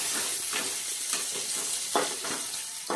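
Green chillies and onions sizzle in hot oil in a home kitchen while poha is being made, a steady crackling fry broken by a few scraping stirs of a spoon in the pan.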